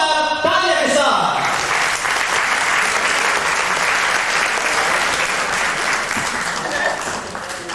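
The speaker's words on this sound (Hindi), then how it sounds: "अगर पसंद आया तो ताली बजाइए।" Sustained audience applause fills a theatre after a stage play performance in Den Haag, starting abruptly and holding loud and dense throughout, with a faint voice briefly heard at the start.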